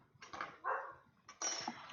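A dog barks a couple of times outdoors, faint and somewhat distant, with short whiny yips between the barks.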